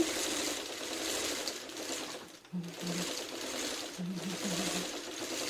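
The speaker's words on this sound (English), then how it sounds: "I sew it upside down, like so I'm sewing it this way, so that seam stays open" A sewing machine stitches a quilt block seam in a continuous, even whir up close, briefly easing off midway before carrying on, with faint low hums showing now and then.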